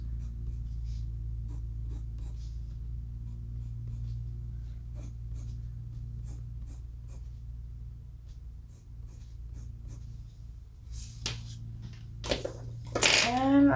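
Coloured pencils scratching across paper during an adult Halloween colouring session, a steady soft scraping with short strokes over a low hum, ending in a few louder rustles.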